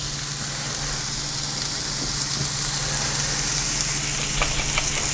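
Chicken frying on high heat in a pan, a loud, dense, steady sizzle with scattered crackles and pops, close and continuous throughout.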